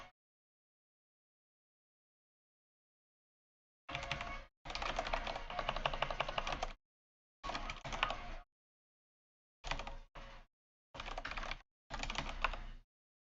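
Someone codes in CircuitPython for a Pico W, typing on a computer keyboard in quick, clattering bursts of keystrokes separated by silent pauses, close and fairly quiet, with no talking.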